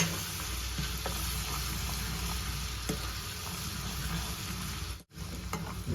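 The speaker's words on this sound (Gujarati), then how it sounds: "હિંગ નાખીશું આદુ લસણની પેસ્ટ નાખીશું હવે આ બરાબર આપણે સાતડીશું" Asafoetida and ginger-garlic paste sautéing in hot oil for dal makhani, a steady close sizzle and crackle with faint stirring taps, briefly cutting out near the end before resuming.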